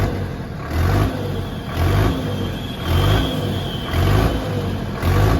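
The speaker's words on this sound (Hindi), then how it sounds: "ये दाड़ है मेरे भाइयों इस ट्रैक्टर की" An Indo Farm 3055 DI 60 HP tractor revs up and settles repeatedly in a steady rhythm, a deep rumbling four-cylinder drone close by, loud and with no talking.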